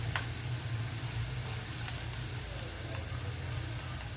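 Chopped garlic, ginger and green chilli sizzle in hot oil with spluttered mustard seeds for a dates pickle, a steady close crackling hiss that runs evenly throughout with no voice over it.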